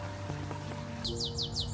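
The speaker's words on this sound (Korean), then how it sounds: "새소리," A quick series of high, sweeping bird chirps repeats rhythmically over soft background ambience in a forest in the middle of a city, fairly close and clear.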